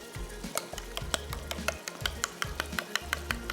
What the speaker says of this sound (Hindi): इसको अच्छे से करना है मिक्स।